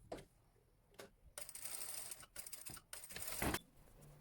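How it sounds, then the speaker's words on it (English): Sewing machine stitching the waistband ties of a cowl neck top, a quiet close whir in two short runs of rapid needle chatter. "I then sew the two ties of the waistband, making sure to sew the ends diagonally so it creates a nice ribbon finish."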